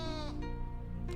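Sheep bleat in the Rain on Your Parade video game, a close, steady, harmonic-rich cry that holds for about a second, with a brief second bleat rising at the end.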